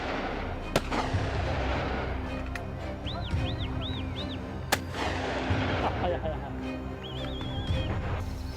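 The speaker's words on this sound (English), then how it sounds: "One final burst of gunfire, and it collapses in the forest" Gunfire in a forest during a wild boar hunt: a few sharp, loud shots crack out at intervals over a busy, noisy background with faint rising and falling whistling tones.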